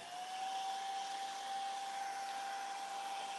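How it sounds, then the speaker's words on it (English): A blow dryer runs steadily and close by with a constant whirring rush and a high whine, used during a live acrylic dove painting session. No voices are heard. "So I'm just using a blow dryer."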